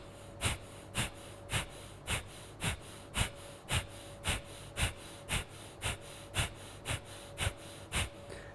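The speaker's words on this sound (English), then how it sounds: "force the air out through your nose and suck in your belly" Kapalbhati pranayama breathing: a steady series of about fifteen sharp, forceful exhalations pushed out through the nose, evenly spaced roughly every half second, close and alone with no talking.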